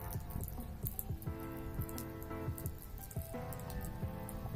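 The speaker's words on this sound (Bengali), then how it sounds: "কেমন সাউন্ড আসছে ওয়াটার পাম্পে।" A small submersible water pump runs on a 3.7 V battery with a short pipe attached and throws out water. It makes faint, continuous splashing and dripping, and a low hum sits beneath it.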